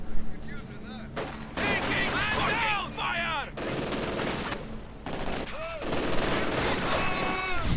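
Submachine gun fire from PPSh-armed Soviet infantry in the Company of Heroes 2 strategy game, bursts of rapid shots crackling repeatedly amid ongoing battle noise, steady and fairly loud with some voices mixed in.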